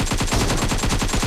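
Dense, rapid automatic gunfire in the mobile battle royale PUBG Mobile during a team deathmatch, a loud continuous rattling burst with no pauses.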